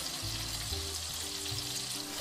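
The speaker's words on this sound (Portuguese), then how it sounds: "Por enquanto ela está fritando" Oil sizzles steadily in a pan while pasta all'Amatriciana is being cooked, an even, continuous frying hiss with a low hum beneath it and no talk.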